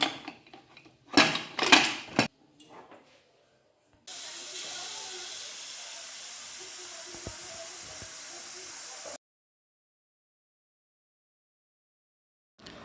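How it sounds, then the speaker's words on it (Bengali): A pressure cooker with mutton inside for a Mughlai korma lets out a loud, steady jet of hissing steam for about five seconds, preceded by a few clanking pot knocks and followed by silence. "প্রেসারে আমি 2 থেকে 3টে সিটি দিয়ে দিয়েছি"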